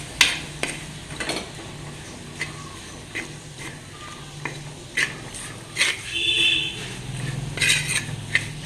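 Fish curry with turmeric stirred in a pot, spoon clinks and scrapes against the metal at irregular intervals, fairly close, over low kitchen background noise.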